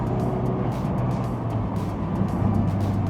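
Ford Focus RS engine cruising in sixth gear, a steady low engine drone and road rumble that holds at an even level throughout, heard from inside the car.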